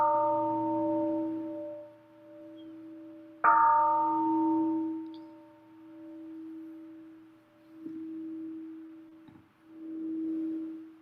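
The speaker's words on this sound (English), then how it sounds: "I will hit the bell" A Buddhist temple meditation bell is struck once, ringing out and decaying slowly, then struck again with a long, humming sustain that fades between strikes in a quiet hall.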